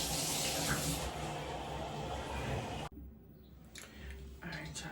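Shower water runs as a steady close hiss and spray in a home bathroom, then cuts off abruptly partway through, leaving quieter room sound with a few faint knocks.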